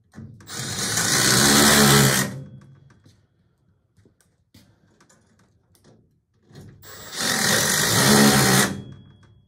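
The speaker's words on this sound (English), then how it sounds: "Where's the drill? There's the drill." A power drill runs in two bursts of about two seconds each during a furnace changeout replacing an old Trane unit, whirring loudly up close with a quiet pause of clicks and handling noise between them.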